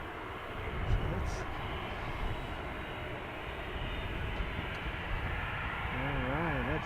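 A WestJet airliner at an airport gives a steady, broad jet-engine roar that fills the scene and holds at a fairly even level throughout, with a voice speaking faintly near the end.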